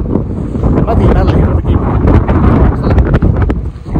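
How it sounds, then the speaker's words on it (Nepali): Strong wind buffets the microphone with loud, rumbling gusts in the Colorado mountains while a person speaks briefly underneath. "हावा चलिरहेको छ"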